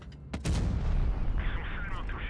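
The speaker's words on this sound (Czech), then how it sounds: "Jedna ta rána na tom mouse bylo klasický francouzský dělo" A tank gun shot striking a Maus heavy tank in the video game WoT Blitz, one sharp loud cannon blast followed by a rumbling impact and ringing debris.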